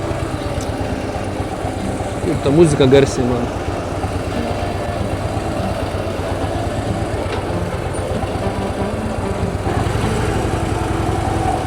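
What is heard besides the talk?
Harley-Davidson motorcycle engine idling at low speed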